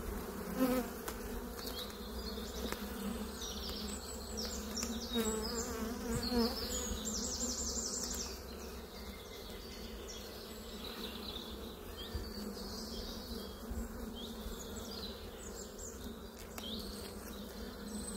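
A honeybee swarm drones continuously at a hive, a dense steady buzz near and even throughout, with occasional individual bees zipping past close by.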